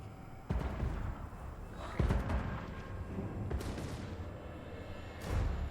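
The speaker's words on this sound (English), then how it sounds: "Hellblaster volley guns are starting to fire off here." Hellblaster volley guns in the Empire army of Total War: Warhammer 2 fire in scattered bursts, sharp booming cracks at about half a second, two seconds and five seconds over steady battle rumble and faint background voices.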